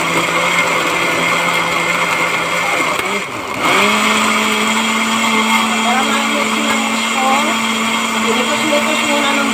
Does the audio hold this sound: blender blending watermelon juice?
yes